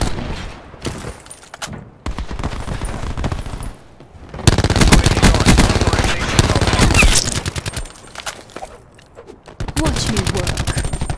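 Spitfire machine guns rattling in a video game, loud rapid bursts with a long sustained volley in the middle and shorter bursts before and after.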